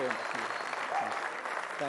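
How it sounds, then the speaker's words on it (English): A large audience applauds at the News18 Rising India event, a dense, continuous roar of clapping with a voice speaking over it throughout. "Let's have a round of applause for Gaur Gopal Das."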